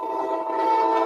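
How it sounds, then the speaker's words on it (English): A train sounds a loud, sustained horn blast up close, holding one steady tone without voices. "Train."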